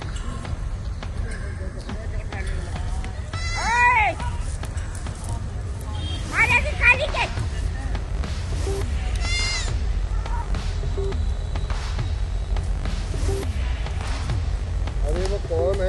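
Goats bleating outdoors in a village, two clear wavering bleats a few seconds apart over steady low background noise and people talking.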